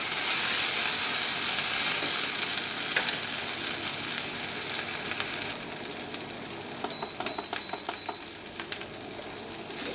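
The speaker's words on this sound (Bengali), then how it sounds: "ভালো করে নেড়ে চেড়ে তেলের সাথে পেঁয়াজের সাথে ভাজতে হবে।" Ginger garlic paste fries with onions in hot oil, hissing loudly at first and then settling into a softer sizzle, with repeated spoon scrapes and taps against the pan.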